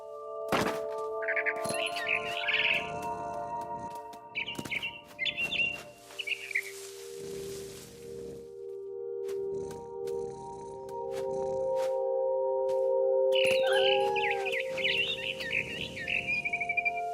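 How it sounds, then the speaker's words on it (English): Barn swallow chirping in What Remains of Edith Finch, with bright twittering bursts near the start and again toward the end. Soft thunking steps and game ambience run beneath the calls. "It was a barn swallow going back to her nest."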